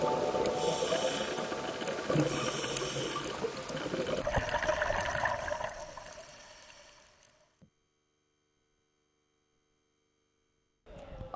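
Water of the Ai Ngemplok waterfall in Lombok flows over rock boulders with a steady broadband rush that fades out partway through, leaving near silence before a brief sound at the end.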